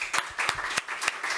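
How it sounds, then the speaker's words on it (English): Audience applause after a speaker's talk at a policy event on AI and big data, a steady wash of many hands clapping with sharp individual claps standing out across the short burst, no talk over it. "So if we could all just thank Avi, give him a round of applause."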